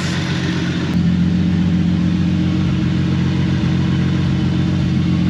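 A Toyota MKIV Supra with a new turbo manifold and full 4-inch exhaust idles steadily, a close, even low engine drone that holds constant with no talking.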